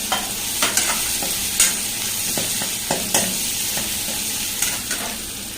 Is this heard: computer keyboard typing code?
no